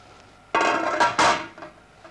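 Beef is dropped into a large cooking pot for a Breton kig ha farz, a couple of close, loud metallic clunks and clattering knocks in a kitchen.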